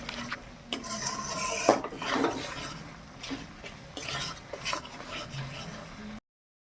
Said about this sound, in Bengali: এই বাটা মশলাটা দিয়ে আমি আস্তে আস্তে করে কষিয়ে নেব